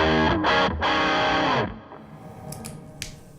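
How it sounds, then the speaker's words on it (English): Heavily distorted electric guitar chords through a Mooer Micro Preamp pedal with added distortion ring out loud and fuzzy, then cut off, leaving a faint hiss and a few small clicks. "And you might add a distortion in like this."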